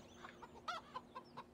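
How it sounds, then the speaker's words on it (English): Chickens clucking in the farming video game Farming Simulator 17, a few faint short clucks in quick succession over a quiet background hum. "We got 24 chickens. So they're laying eggs right now."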